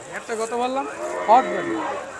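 A Sahiwal calf moos nearby at a cattle market in a short, rising bellow amid the busy murmur of people talking.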